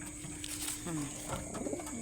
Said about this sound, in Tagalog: Bagong kalapati natin yan